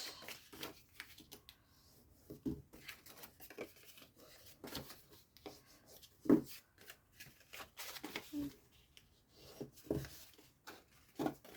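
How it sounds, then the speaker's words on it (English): A bone folder burnishes fold marks on crafting paper for a gift box, making soft rubbing and scraping strokes in an irregular rhythm, faint and close, with occasional light taps. "Grab your bone folder and burnish those fold marks that you did."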